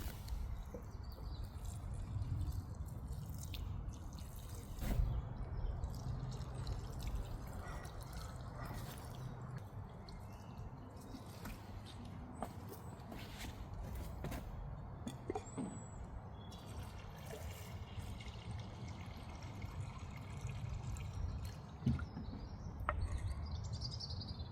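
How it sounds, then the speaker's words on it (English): Water poured onto plants in an allotment garden in spring, a soft steady trickle and splashing with occasional bird chirps in the background. "and then I will give it quick water"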